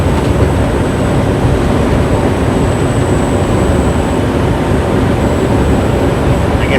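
Train rolling past a truck on the road between Fillmore, Utah and Rupert, Idaho: a steady, loud, continuous rumble with a faint high whine, heard from inside the cab with no talking.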